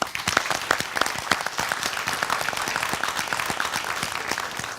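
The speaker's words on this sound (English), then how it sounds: "Let's give all of our contenders and our judges a big round of applause." A crowd applauds with rapid, dense clapping that stays steady throughout, loud and close.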